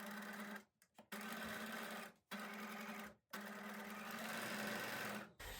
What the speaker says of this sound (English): now I'm just going to do a straight stitch